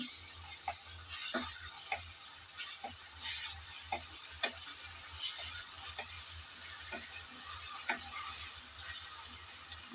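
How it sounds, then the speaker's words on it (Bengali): Ginger-garlic paste fries with onions in a pan, giving a continuous soft sizzle broken by repeated clicks and scrapes of a spoon stirring against the pan, close and fairly quiet with no voices. "আদা রসুন বাটা দিয়ে পেঁয়াজের সাথে নেড়ে চেড়ে ভালোভাবে ভেজে নিতে হবে"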